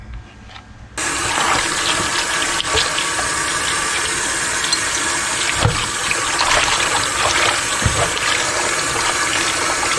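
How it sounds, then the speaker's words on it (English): Tap water runs steadily into a sink, rinsing salted deer meat for teriyaki jerky. The flow starts after a brief quiet moment and then continues loud and close, with occasional splashes and clunks. "We do want to go ahead and rinse this off and then add the marinade."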